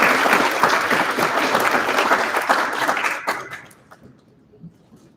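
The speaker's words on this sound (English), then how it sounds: "So can we get a big round of applause for our panelists?" An audience at a youth leadership summit applauds its panelists, with loud, dense clapping that holds steady for about three seconds, then thins into a few scattered claps and falls quiet.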